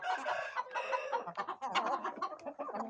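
Chickens on a small flock with an Arabian hen and a Indian game rooster, clucking and cackling busily at close range, overlapping calls filling the whole stretch with no talk.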